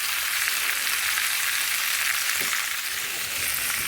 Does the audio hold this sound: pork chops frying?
yes